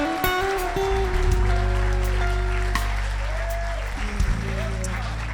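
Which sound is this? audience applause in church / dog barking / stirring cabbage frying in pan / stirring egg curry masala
audience applause in church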